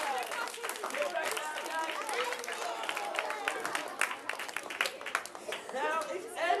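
Scattered clapping and cheering from a children's audience at a live community event, with bursts of excited voices and talk mixed through the applause at moderate distance.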